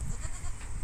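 A goat gives a short, faint bleat that lasts under a second and is heard on its own, without any voices over it.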